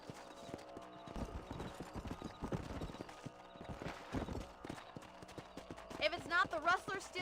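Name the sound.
horse hooves while riding, from video game Red Dead Redemption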